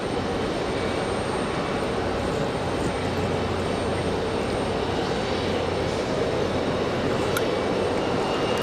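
An Icelandair Boeing 737 MAX arrives at Raleigh-Durham, giving a constant, moderately loud jet rumble and rush with a faint low drone running beneath it.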